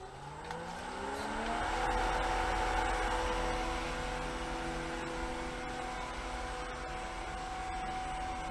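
A Black + Decker pool pump on 1.5-inch pipes spins up to 2500 RPM, its motor whine rising over the first two seconds and then holding a steady drone.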